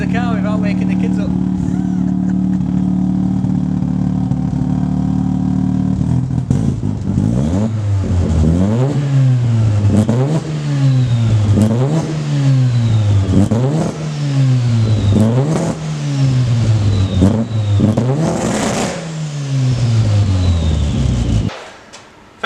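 A Mazda RX-7 FD rotary engine with a screamer pipe exhaust revs repeatedly in rising and falling surges, loud and close, with a harsh exhaust note, then cuts off abruptly near the end.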